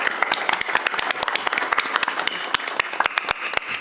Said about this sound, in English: A big applause for our character designers.